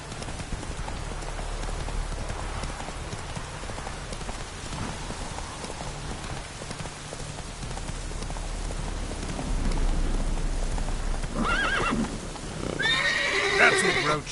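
Roach, a horse in the video game Witcher 3, gallops with rhythmic hoofbeats under a rain-like wash of noise, then lets out clear whinnying neighs near the end.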